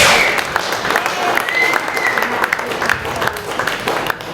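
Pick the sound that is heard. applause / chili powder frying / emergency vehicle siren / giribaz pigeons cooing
applause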